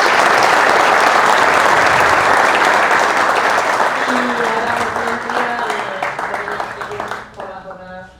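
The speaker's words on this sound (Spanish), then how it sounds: "Así que por favor un fuerte aplauso." Loud, sustained applause from an audience at the end of a sports speed-development workshop, thinning and fading toward the end as a voice begins speaking.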